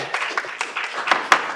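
Brief, scattered applause at a school board meeting, a few people clapping unevenly in a sparse, short burst.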